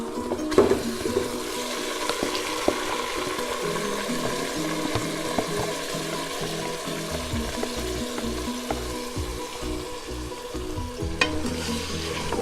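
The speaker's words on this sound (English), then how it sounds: "Now I'm going to go ahead and add my meat with the yogurt marination" Beef in yogurt marinade tipped into a pot of browned onions, sizzling and frying steadily with stirring scrapes and clatters, close and continuous.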